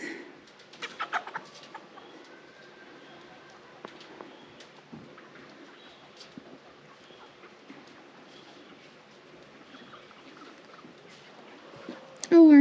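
Homestead chickens clucking and cooing softly nearby in an off-grid garden, with scattered faint calls throughout and a voice speaking briefly at the start and end.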